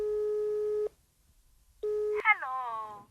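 Telephone call tone: two steady beeps split by a short silence, the second cut off by a brief pitched voice-like sound as the line connects.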